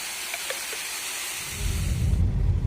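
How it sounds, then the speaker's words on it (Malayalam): A forest waterfall on the road to Coorg gives off a steady, broad rushing hiss that swells louder partway through as it comes closer, with a few faint chirps early on. "വീണ്ടും ഒരു വെള്ളച്ചാട്ടം"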